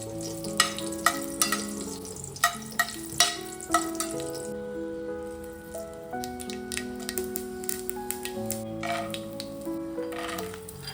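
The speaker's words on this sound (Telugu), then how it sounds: "ఇక్కడ పోహా కోసం తాలింపు వేస్తూ ఉన్నాను." A poha tempering fries in a pan with a soft sizzle and crackle, punctuated by sharp pops and clinks of stirring near the start, alone and fairly quiet.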